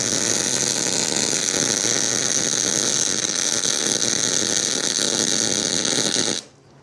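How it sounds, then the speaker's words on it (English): Gasless arc welding on a new welding table, a steady loud crackling, spattering buzz that runs unbroken for about six seconds, then cuts off abruptly into quiet. "it acts like you're welding with no gas"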